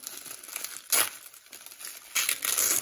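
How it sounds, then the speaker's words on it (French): Tissue paper wrapping a mail-order package crinkles as it is unfolded, with soft rustles building into two louder bursts of crackling near the end. No one speaks. "Donc, c'est emballé dans du papier de soie."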